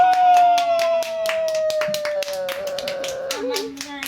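Several people clap hands at a child's birthday party, a quick run of sharp claps under cheerful voices and background chatter, fading as talk continues.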